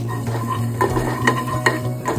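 Ground cumin, chili powder, garam masala and turmeric stirred into hot oil in a frying pan make a soft sizzle, broken by a few sharp scrapes and taps of a utensil against the pan, close and brief.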